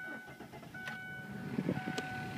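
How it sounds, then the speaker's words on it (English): A 2004 Kia Spectra with 72,000 miles drives and accelerates, its engine a steady close hum with a slight rise in rumble toward the end; no talking. "Let's take it for a spin. Show you how it shifts,"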